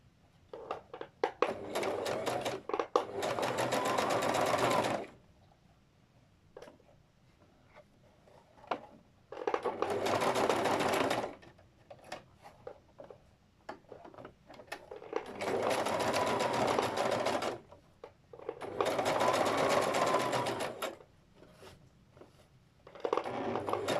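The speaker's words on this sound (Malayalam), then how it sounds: "ഇതിനെ ഒരു ഫോൾഡായിട്ട് മടക്കി ഉള്ളിലേക്ക് ഫോൾഡ് ചെയ്ത് ഞങ്ങൾ സ്റ്റിച്ച് ചെയ്യണം" A sewing machine stitches a folded-in fabric edge in four separate bursts of rapid, even whirring, each lasting a few seconds, with quiet handling sounds between runs.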